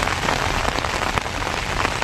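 Steady rain falling on a rainy day during a honey-hunting trip, a dense continuous patter of drops on surfaces, loud and close with no voices.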